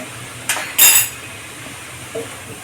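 A spoon stirs vegetables in a pan, giving two quick metallic scrapes and clinks close up, then a faint tap after a short pause over quiet background.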